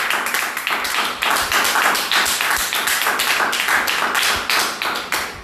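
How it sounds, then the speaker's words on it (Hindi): A church congregation claps loudly and rapidly in a dense, continuous burst of applause lasting several seconds, with no talk over it. "One more great clap."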